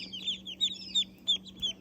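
High, repeated peeping chirps from ducklings, about six calls in quick succession over a steady low hum.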